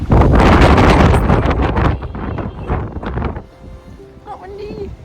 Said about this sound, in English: Well, it's still really windy.